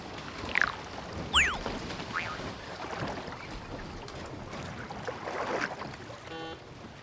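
A sailing boat out on Sydney Harbour, with a steady wash of water and wind, a few sharp chirping squeaks near the start and faint rattling later.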